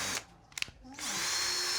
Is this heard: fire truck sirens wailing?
no